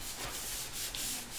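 Paper is being rubbed and pressed flat onto a glued surface by hand, a steady, close, continuous scraping and rubbing with no talk.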